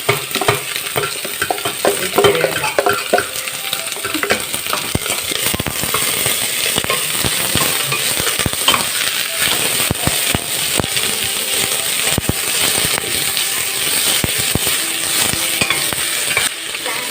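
Onions and chili frying in a pan while being stirred, a steady loud sizzle with frequent scraping and clinking of the utensil against the pan throughout, no voices.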